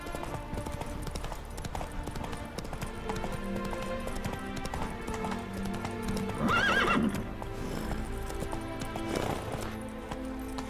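Roach the horse gallops in Witcher 3 with steady, rapid clip-clop hoofbeats throughout, under game ambience, with a loud neigh partway through.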